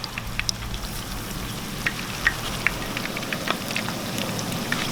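Eggplant fries in a pan with a soft, continuous sizzle, broken by scattered sharp pops and crackles of hot oil, heard close with no talking.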